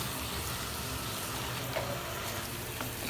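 Masala with green chillies sautés in a pan for a prawn gravy, giving a steady, soft frying hiss with faint stirring scrapes and no voices.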